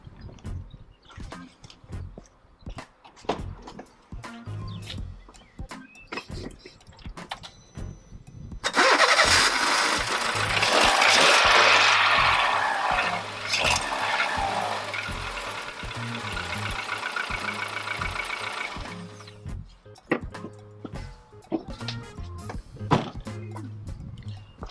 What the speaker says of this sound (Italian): andremo a far fare un giro di motore per riempire il filtro in questo modo qua